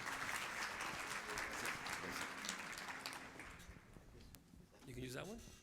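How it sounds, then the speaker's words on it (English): An audience applauds Dr. Escamilla at a dual language education conference, with a dense, steady wash of clapping that thins toward the end as a voice starts to speak. "Let's give a round of applause to Dr. Escamilla."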